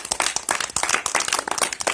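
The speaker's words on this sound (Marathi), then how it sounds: "सगळ्यांसाठी एकदा जोरदार टाळ्या होऊन जाऊ द्या।" A classroom of fifth-grade students bursts into loud, close clapping: quick, uneven hand claps overlapping in a lively burst with no talking.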